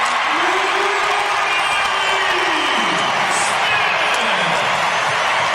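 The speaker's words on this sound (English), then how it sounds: "the crowd with extra juice saluting Riley Smith" Hockey arena crowd at a Los Angeles Kings versus Vegas Golden Knights NHL game cheers loudly for Riley Smith's point, a dense sustained roar with whoops rising over it while a commentator's voice runs underneath.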